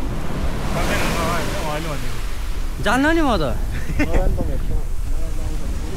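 Ocean surf washing in at a rockpool beach at Mona Vale, a steady broadband rush of breaking waves with people talking and calling out over it throughout.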